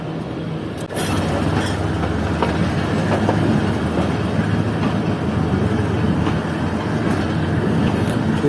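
The Fareed Express pulls out of Pakpattan railway station behind a G20 locomotive, a loud, steady rolling rumble with rail clatter and a sharp burst near the start.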